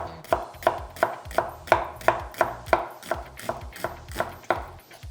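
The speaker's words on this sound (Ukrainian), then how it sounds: "а цибульку ріжемо ось такими перами" A knife chops onion into thin strips on a cutting board, about a dozen sharp, evenly spaced strokes in a brisk steady rhythm, close and clear with no talking.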